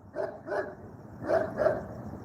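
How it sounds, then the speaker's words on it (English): A large Dalmatian barks in two pairs, four sharp, fairly loud woofs with a short gap between the pairs, and no talk. "Neighbors' dogs are wild."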